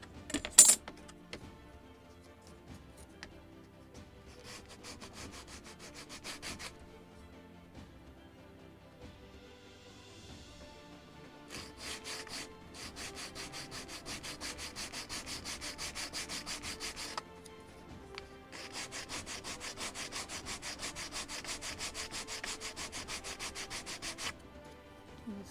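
A sanding block rubs back and forth on a small wooden part of a model gunboat kit, producing soft, close scratchy strokes in several long bursts separated by pauses, faint and without speech.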